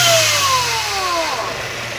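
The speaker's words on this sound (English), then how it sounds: "I'll give the throttle a blip just to give you an idea" A supercharged Mercedes-Benz 200/230 Kompressor engine gets a sharp throttle blip, revving up and falling back with a strong whining supercharger sweep, loud and close with no talk.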